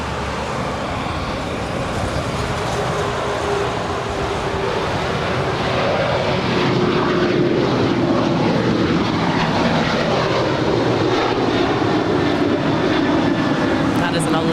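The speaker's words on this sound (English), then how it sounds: "we do have Alaska Airlines Flight 282 heading to Liberia. It's a 737-800 departing at 25 right." An 11-year-old Alaska Airlines Boeing 737-800 jet departs runway 25 right at Los Angeles airport, its engines a steady, loud broadband roar with a rising whine that holds throughout, with talk faintly underneath.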